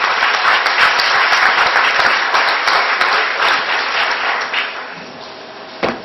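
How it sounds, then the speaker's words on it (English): An audience at a school board meeting claps for fourth-grade students, dense sustained applause that holds strong then gradually thins and fades toward the end, with a brief final burst of claps. "Let's give them a nice round of applause."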